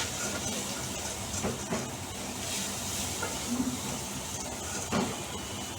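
Oil poured over lentil paste frying crisp in a pan for a Bengali bottle gourd and pea lentil chapor ghonto, a continuous broadband sizzle and hiss with faint scraping, steady and moderately close.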